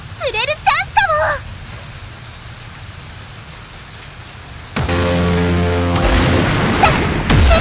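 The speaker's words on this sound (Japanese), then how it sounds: "雨が降ってきた" Rain pours down in the pachinko game P Seiryuu Monogatari 4, a steady hiss that swells suddenly louder midway, with short game chimes at the start and musical tones layered in later.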